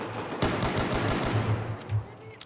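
Pistol shots ring out in the video game Battlefield 4, a quick close series of sharp reports at an uneven rhythm over steady game ambience.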